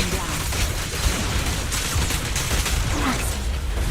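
Gunfire in the video game Zenless Zone Zero crackles as a dense, steady barrage with booming impacts, loud and continuous for a few seconds.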